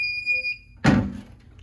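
Fire alarm going off during a routine monthly test of the alarm and emergency lighting: after steady tonal beeping, a loud broadband blast strikes at once, then fades and lingers faintly, with no talk.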